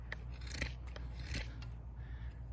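Knife shaving wood while preparing a bow drill, quiet rasping scrapes in short repeated strokes, close and faint against a low steady hum.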